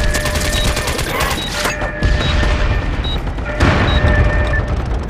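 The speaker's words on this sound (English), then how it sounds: "Just shooting randomly" Dense, loud gunfire and explosions fill a battle in the online shooter video game MAG, with overlapping shots and booms running continuously.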